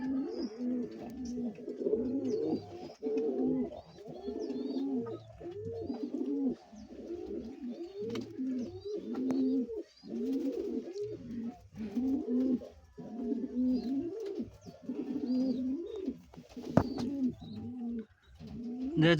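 Pigeons coo in repeated low, throaty phrases, several birds close by, the soft rolling calls coming in steady rhythmic bursts throughout, with occasional faint chirps and no talk.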